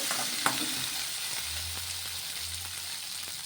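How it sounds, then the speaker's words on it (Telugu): Green chillies sauté and sizzle in a pan as they are stirred, a close, steady frying hiss with soft scraping from the stirring and a low rumble beneath, with no voices. "ఇప్పుడు ఇందులోకి కారానికి తగ్గట్టు పచ్చిమిర్చి కూడా వేసుకోవాలి ఇలా మొత్తం ఒకసారి కలిపేసుకొని ఇవన్నీ కూడా మగ్గాలి"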